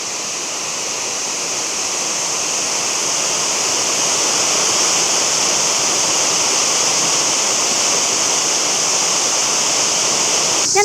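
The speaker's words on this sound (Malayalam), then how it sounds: "പാലത്തിൻ്റെ തൊട്ടടുത്തുള്ളൊരു കുഞ്ഞ വെള്ളച്ചാട്ടം" A small waterfall beside a roadside bridge on the route toward Ooty pours in a loud, continuous roar of falling water that stays steady throughout, close to the listener with no voices.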